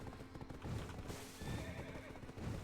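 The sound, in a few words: horse neighing and galloping in video game Black Desert Online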